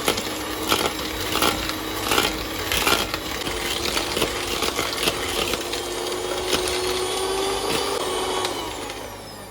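Cookie batter of egg and vanilla essence being beaten with an electric mixer gives a steady whirring motor drone throughout, with rhythmic knocks of the beaters against the bowl, loud and close.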